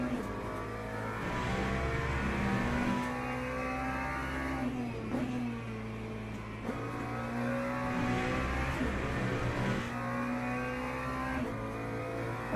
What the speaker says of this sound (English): the lead LMP2's coming through again